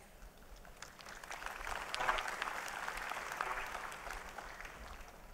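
Audience applause at a university graduation ceremony swells from quiet to a steady, dense patter of many hands clapping that carries on for several seconds.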